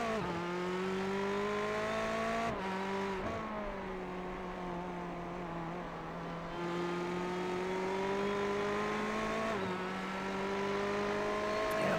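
Onboard a Ferrari Challenge race car at Phillip Island, the engine drones loud and steady with strong harmonic tones, dipping briefly at gear changes before climbing again across the run.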